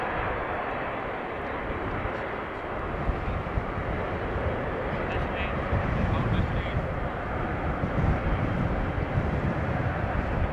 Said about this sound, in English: let's just stick with the 747. Saudia Cargo by the looks of it